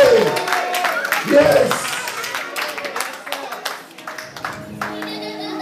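Church congregation clapping and cheering, a burst of many hands and raised voices at close range, fading into scattered claps, shouts and singing-like voices with a person speaking over it.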